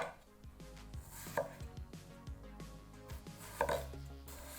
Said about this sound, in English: using the knife to cut off the skin, following the curvature of the sides